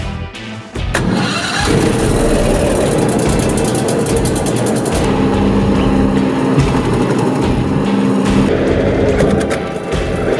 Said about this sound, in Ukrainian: ПГ-160 БДК працює на бензиновому двигуні потужністю 21 кВт.